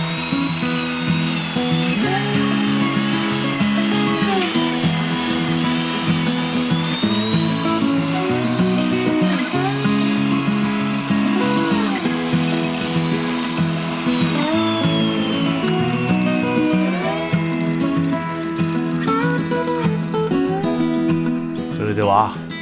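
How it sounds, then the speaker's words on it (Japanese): An old hollow chisel mortiser bores square 30 mm mortise holes into a red pine beam, giving a steady loud machine whine with a rising and falling pitched tone and cutting surges throughout. "これは角のみと言いまして、1回で30ミリの四角い穴が開きます。"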